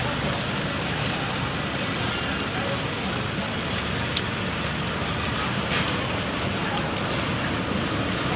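Steady rain patters continuously on a surface, a dense hiss with occasional sharper drops standing out.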